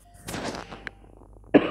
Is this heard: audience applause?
no